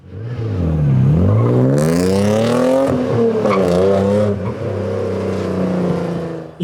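A big block V8 drift car accelerates hard on a track, its engine note climbing and sweeping upward in pitch, loud and close, then holding at a sustained high-revving roar.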